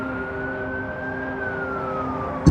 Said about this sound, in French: Des voix, des sirènes,